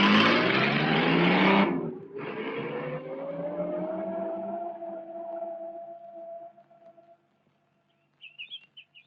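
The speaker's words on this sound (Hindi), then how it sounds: "चलो ड्राइवर गाड़ी चलाओ।" A vintage car drives off on a Bombay street in an old Hindi film, its engine noise loud at first, then a rising whine that fades into the distance, with faint chirps at the end.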